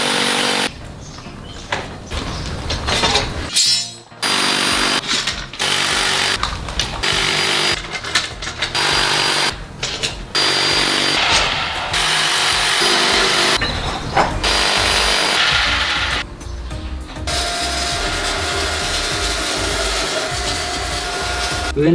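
A power drill bores holes into a concrete garage slope to take steel rebar, a loud, harsh grinding roar in repeated bursts with short pauses between, close by.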